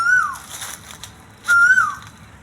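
An Asian koel calls from a tree, two clear whistled notes that swoop up and then fall, spaced over a second apart against quiet outdoor air.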